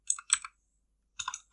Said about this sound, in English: Oh my god, I'm typing so bad.